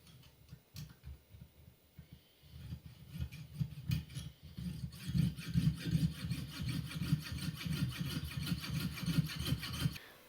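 A handmade mechanism part for a Conn New Wonder II saxophone is cut out with quick, rhythmic rasping strokes. They begin faint and sparse, then grow steadier and louder.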